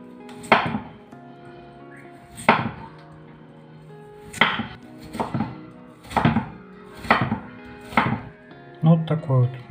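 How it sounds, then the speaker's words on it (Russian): A knife chops firm raw potatoes into long sticks on a board, six sharp evenly spaced cuts, then a quick cluster of smaller taps at the end. "Я его буду нарезать брусочками длинными."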